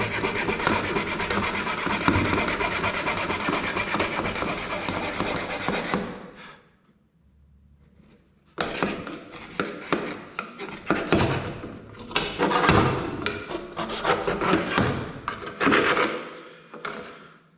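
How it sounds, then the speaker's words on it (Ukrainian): Small hand saw rasping through wood for a handmade hair clip, steady back-and-forth strokes for about six seconds, a brief pause, then renewed close sawing in bursts. "вона зубчиками прорізає собі дорогу і після цього без проблем ми можемо пиляти далі"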